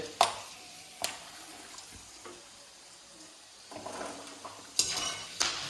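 Fried cashews and almonds are lifted out of a frying pan, with a few sharp metallic clinks and scrapes of a utensil against the pan over a faint background sizzle, spaced irregularly with quieter stretches between.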